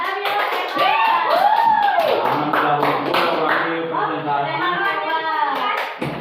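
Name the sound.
class clapping for the first group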